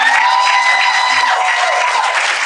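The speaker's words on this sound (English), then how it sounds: "please give another round of applause" A live audience applauds and cheers for a comedian guest at a podcast taping, a steady wash of clapping mixed with whoops and raised voices, fairly loud and close throughout.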